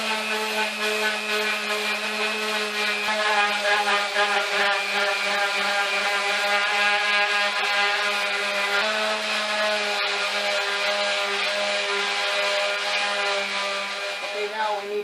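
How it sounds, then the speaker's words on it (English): Wood being sanded with a power tool for a homemade drinking game: a loud, steady machine whine runs unbroken throughout, with a brief dip midway. "now it's sanding, and a lot more sanding."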